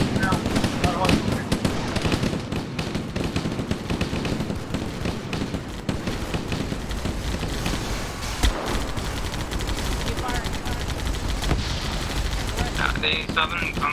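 Halo video game combat with a grenade blast and sustained gunfire, dense rapid shots and bursts at constant loudness, with voices talking over it.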